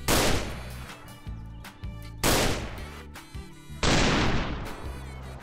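Sniper gunfire in the Roblox game Notruf Hamburg, fired from a club rooftop: three loud, sharp shots spaced about two seconds apart, each with a ringing tail that decays into a lower echo, and no talking over them.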